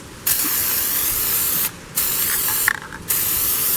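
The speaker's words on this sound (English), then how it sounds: "Now let's spray paint the other side" Spray paint hisses from an aerosol can onto a PVC fidget spinner in three steady bursts separated by short pauses, close and fairly loud with no talk.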